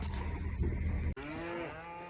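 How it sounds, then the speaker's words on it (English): Cattle mooing during a summer cattle drive on a road in Utah, one loud close moo cutting off sharply and followed by another drawn-out bellow, with no talk. "we got a little herd of cows put together, just running them up the road here"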